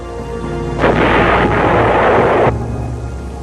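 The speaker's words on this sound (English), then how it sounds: "Some bases, including Khe Sanh, also had powerful 155mm howitzers. They could lob a heavy shell over 9 miles at a rate of 4 rounds a minute." A 155mm howitzer at a Vietnam War base near the DMZ fires a heavy shell, a single loud roaring blast lasting under two seconds that then cuts off into a low background hum.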